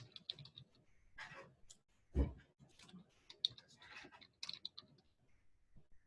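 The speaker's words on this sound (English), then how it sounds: "I'm just typing a keyboard." Keys on a computer keyboard clatter in quick, irregular bursts with a few sharper mouse-like clicks, close and fairly quiet in a still room.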